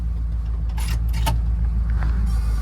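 Original-paint Jeep CJ5 with a V8 idling just after starting, a steady low rumble throughout with light clinks and rattles on top, no talking.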